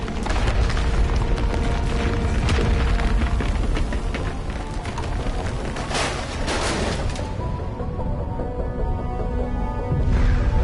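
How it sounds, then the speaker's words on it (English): A cave blowing apart in Mass Effect Legendary, a dense, sustained rumble of booms and crackling blasts that rolls on loudly for the whole stretch with bursts swelling near the middle and end. "The cave y'all in's exploding."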